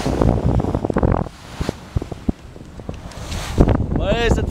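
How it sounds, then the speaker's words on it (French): Gusty wind buffets the microphone in a continuous rushing roar, with a few brief clicks and knocks and a faint voice near the end. "Le vent vient juste de se lever"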